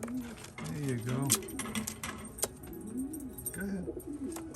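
Racing pigeons coo in low, throaty rolling calls at a loft during a pigeon race, close by, with a person speaking intermittently over them and small handling noises.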